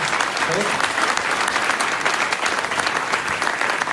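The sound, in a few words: audience applause after a talk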